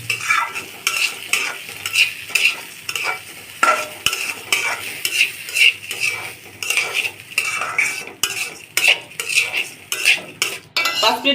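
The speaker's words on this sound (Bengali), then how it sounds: "ঘিটা গরম হয়ে গেছে, দিয়ে দিব ধুয়ে রাখা চাল। চালটা মাঝা রেখে 4-5 মিনিট ভেজে নিব" Washed rice fries in hot ghee while being stirred, with repeated rhythmic scrapes and clinks of a spoon against the pan over a continuous close sizzle.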